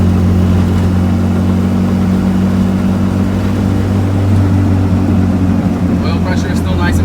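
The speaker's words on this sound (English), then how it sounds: "Motor sounds super healthy." A turbocharged Honda car engine runs at a steady idle, a loud, constant low drone with a continuous hum heard from close by as someone talks over it.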